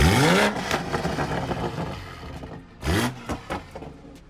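A BMW M4 engine revs hard twice, each burst rising sharply then falling away, with quieter blips and settling between the loud pulls, close and without talk.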